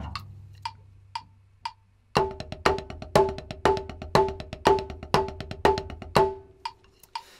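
A metronome ticks steadily at 120 BPM alone for two seconds, then drum paradiddle strokes join in, tight and even alongside the clicks before stopping as the ticking continues.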